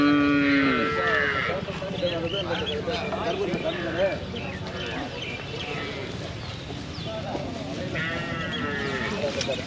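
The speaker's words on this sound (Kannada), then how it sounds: "ಎಲ್ಲ ಕರುಗಳು" Calves at a large livestock market at the Anthiyur Gurunathaswamy temple fair, with repeated nearby moos and bleats over dense crowd chatter and market bustle, several calls rising clearly above the steady background.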